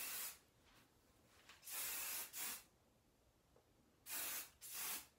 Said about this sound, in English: now I'm gonna go in and spray everything